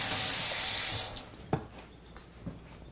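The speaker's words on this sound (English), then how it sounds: "let me rinse my hands off" A kitchen faucet runs strongly into a sink as hands are rinsed, a steady rushing stream that cuts off after about a second, leaving faint drips and small clatters.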